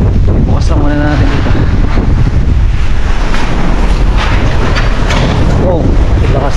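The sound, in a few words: strong typhoon wind blowing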